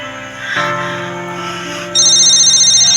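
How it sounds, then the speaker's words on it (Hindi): A phone ringtone plays, starting with a soft chime and then becoming a loud, steady electronic ring with a rapid repeating pulse. "भाई वानी का फोन आ रहा है"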